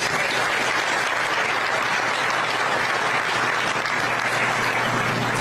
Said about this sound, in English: Can we get another round of applause for all of our speakers?